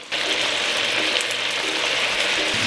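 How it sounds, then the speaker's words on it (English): Meatball sauce simmers in an uncovered pan with a steady, dense bubbling hiss and faint pops throughout, close and fairly loud with no voices. "you can see the sauce start to bubble"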